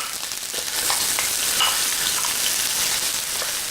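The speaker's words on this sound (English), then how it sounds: "We are going to cook the onion for 1 minute until the onion is slightly soft." Onion frying in hot ginger-infused oil for a Chinese butternut squash soup, a dense, steady sizzle with faint stirring scrapes throughout and no talk.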